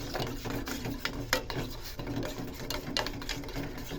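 Homemade soap mixture being stirred in a container, a steady close scraping and swishing with faint clinks running throughout, accompanied by a continuous low mechanical hum.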